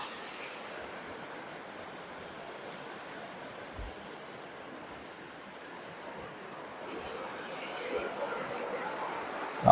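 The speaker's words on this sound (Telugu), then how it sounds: "చాలా ఫోర్స్గా వస్తుంది వాటర్ కూడా." The Godavari river rushes forcefully past hills near Mothugudem, heard as a broad, steady roar of flowing water with some wind. The roar swells a little louder toward the end.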